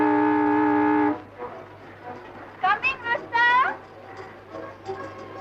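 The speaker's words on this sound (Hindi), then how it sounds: "हॉर्न बजाते ही खिड़की से बाहर" A car horn in a 1954 Hindi film gives one loud, sustained honk lasting about a second, then stops as voices speak.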